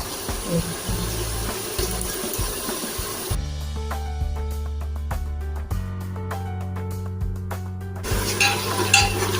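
Ginger garlic paste and curd sautéing for mutton biryani in a pressure cooker, with a dense, close sizzle and stirring at the start and the end, separated by a quieter stretch of steady low tones.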